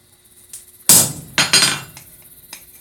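A hammer strikes a punch on hot steel during blacksmith forging of tongs, giving a few sharp, ringing metallic blows close by with short decays between them, and no talk.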